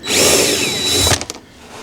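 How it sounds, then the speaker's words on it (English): A power drill fitted with a long bit backs screws out of a Ranger boat compartment lid: a loud, close, sustained high whine that cuts off abruptly, followed by a few short bursts and clatter. "we're just going to get our drill with a long bit on it. And hopefully these screws come out."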